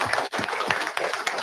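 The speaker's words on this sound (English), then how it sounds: "Big round of applause for her." Applause and clapping from the audience at a live drivers' meeting, a dense burst of hand claps that carries on for the whole short stretch, with a brief dip near the start.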